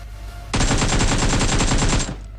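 Rapid burst of automatic fire from an MK gun in the mobile game PUBG Mobile, a dense string of close, loud shots lasting about one and a half seconds.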